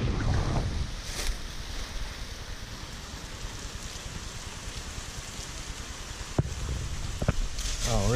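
Wind gusts blowing sideways across open water while fishing from a VIBE SG130 kayak, a steady loud broadband rush with a few sharp knocks near the end and a voice briefly present.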